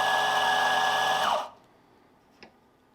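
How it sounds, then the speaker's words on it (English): A Gaggia Rev Titan coffee grinder grinds a 17-gram dose with a loud, steady motorized whine. It winds down and stops after about a second and a half, followed by near silence and one small click. "using the Gaggia Rev Titan grinder here"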